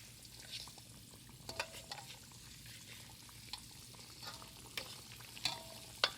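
Chinese-style pork chops fry in a pan, a quiet low sizzle broken by scattered crackles and pops, fairly faint with no voices.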